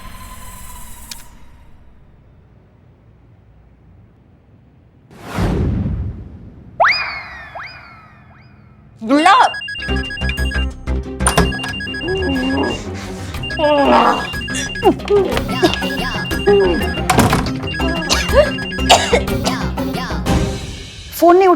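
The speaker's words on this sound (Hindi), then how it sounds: "पुष्पा जी जरा करिश्मा सिंह को फोन लगाइए" A telephone rings repeatedly while a call is being placed to someone, its steady electronic ring pattern running on after an earlier swoosh, in a Hindi TV comedy.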